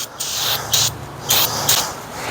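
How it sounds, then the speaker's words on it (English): Aerosol carburetor cleaner hisses from a can onto engine parts in four short, fairly loud bursts about half a second apart, close to the microphone. "Hit them with a little bit of carb cleaner."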